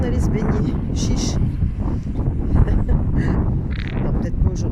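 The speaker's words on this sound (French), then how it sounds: "En plus, il fait du vent." Wind gusts by the seaside, buffeting the microphone in a loud, continuous rush that swells and dips while a person talks over it.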